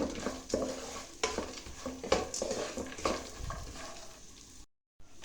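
Coarsely crushed dry fruits roast in a dry pan, a quiet rustling crackle with repeated scraping strokes of a spoon across the metal, close and faint, ending in a brief silence.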